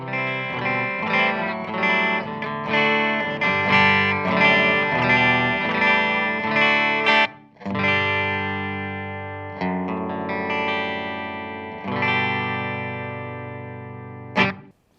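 A clean electric guitar through a Peavey Vypyr VIP 3 modeling combo amp, no effects, plays bright chords and melodic runs with a short pause midway, ringing notes and a light touch of reverb.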